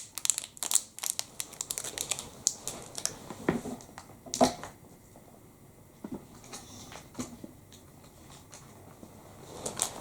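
Golden foil wrapper on a Nidar marzipan chocolate bar crinkles close up in quiet bursts, with irregular crisp crackles and rustles spread across the whole stretch and no talking.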